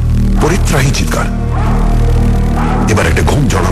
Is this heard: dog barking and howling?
yes